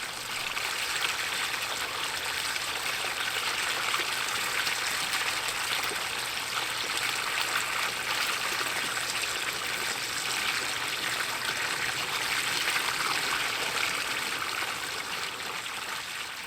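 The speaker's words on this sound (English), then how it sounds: "I also got the waterfalls running and completed the look with a few Impatiens." Water runs continuously down the stones of a DIY planter pot fountain, a steady, close trickle and splash of small waterfalls with no talk over it.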